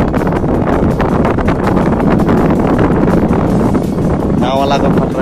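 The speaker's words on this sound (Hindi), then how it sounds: "हवा चल रहा है ना," Strong wind buffets a small boat out on a river, roaring loudly and close throughout while people talk over it.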